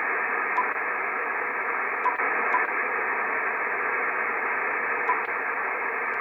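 An Icom IC-7300 radio receiver gives a steady band-limited hiss of static with its first preamplifier switched on, constant and fairly loud, with a few faint clicks.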